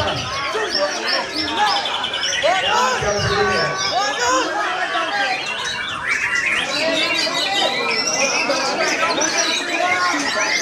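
A white-rumped shama (Murai Batu) sings at a bird-singing contest, its loud, varied whistles and chattering phrases running continuously amid other competing birds and crowd noise.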